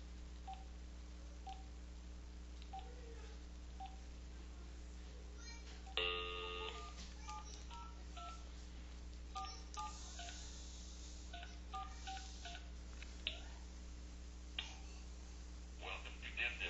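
Touch-tone keypad dialing to join a conference call during a microarray course web session: a run of clear DTMF beeps in irregular bursts over a steady electrical hum, with faint voices in the background.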